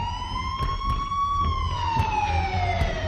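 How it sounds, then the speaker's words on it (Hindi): Police and ambulance sirens wail outside a house, a clear tone that slowly rises and then falls while a second siren layers in. The sound is fairly near and steady, over a low traffic rumble with a few soft knocks. "हमारे घर के बाहर पुलिस और एम्बुलेंस की सायरन बजने लगे।"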